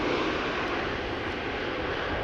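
JetBlue airliner arriving at Amsterdam Schiphol from New York JFK, a steady broadband engine roar held at even loudness throughout, moderately distant, with no voices.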